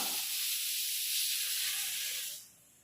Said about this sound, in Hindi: ये साउंड कैच करता है कुकर का,